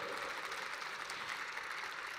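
A short stretch of steady, dense clapping from an audience at a student invention awards ceremony, greeting a winner, even and moderately loud throughout.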